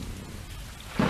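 Rain falls in the video game Stray, a steady hissing patter with a low rumble, ending in a brief louder thump, with no voices.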